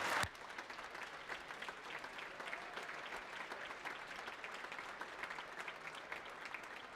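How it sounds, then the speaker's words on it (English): Sustained round of applause from an audience in a state legislative session, steady dense clapping lasting several seconds after a brief loud burst at the start, with no talk over it. "So let's give them one more round of applause"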